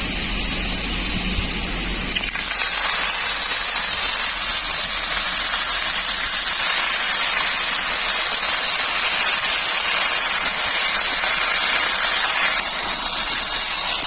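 Chopped red amaranth greens drop into a hot pan, setting off a loud, steady hiss that starts suddenly after a brief lead-in and carries on unbroken throughout, with no talking.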